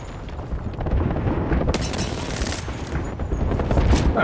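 Rapid bursts of gunfire crackle over a dense, noisy background in the video game Apex Legends, shots coming in quick clusters with loud sharp peaks.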